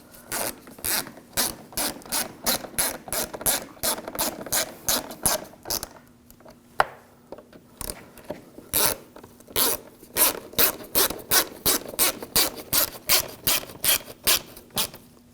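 A hand ratchet tightens the fog light bolts on a 2006-2009 Audi S4. The clicks come close and rapid in several runs, with a short pause midway before the clicking resumes.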